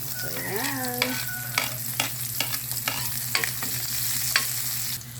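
Ginger, garlic and onion sautéing in a pan, a steady sizzle broken by repeated scraping stirs and clinks of the utensil, with a short squeaky scrape at the start.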